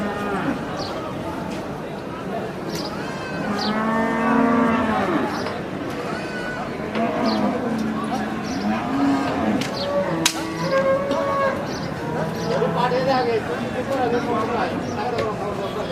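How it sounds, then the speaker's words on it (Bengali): A red cow is led through a crowded Bangladeshi cattle market in Dhamrai, and loud bellowing moos rise repeatedly over busy crowd chatter and nearby talking. "দর্শক দেখতেই পাচ্ছেন লাল কালার একটি গরু নিয়ে আসতেছে আমাদের এক চাচা"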